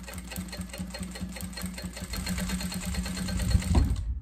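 Close sewing machine stitching a small Easter bag, a steady rhythmic motor hum with needle thumps that grows slightly louder and rougher toward the end.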